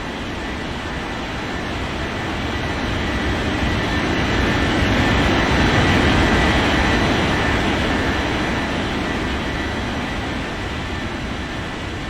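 A jet airliner rolls for takeoff in an air traffic control game, a loud, continuous engine roar that swells toward the middle and eases slightly, heard alone without speech.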